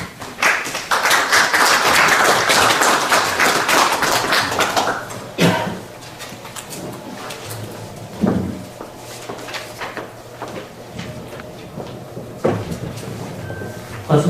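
Audience applause greets a keynote speaker at a seminar on eco-friendly printing, a dense burst of many hands clapping for about five seconds before thinning into scattered taps and room noise.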